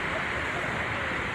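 An outdoor water feature at a seaside marina gives a loud, steady rushing splash, a constant close wash of falling water with no talking.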